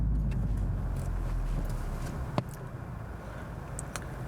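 A Honda Civic Type R, a front-wheel-drive hot hatch, shifts into second gear. Its engine gives a steady, close-up drone with a brief dip and a sharp click partway through.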